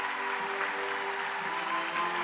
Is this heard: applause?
yes